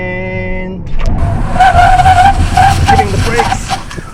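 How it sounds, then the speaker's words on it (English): A car brakes hard from 70 on a wet test track wearing Falken ZIEX ZE310 R EcoRun tires, with a sustained loud tire squeal and skid after a brief engine note. "we're gonna do the same braking test now, but now it's wet"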